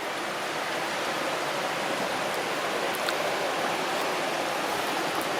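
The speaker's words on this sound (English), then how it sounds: "Got a bit of a rainstorm." Steady broadband rain pours during an aborted road bike ride near Salzburg, a dense even hiss with a few faint brief ticks, continuous and without any voices.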